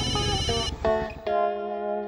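A telephone ringtone plays loud and near, a bright electronic melody of several tones that shifts pitch in steps, with no one speaking.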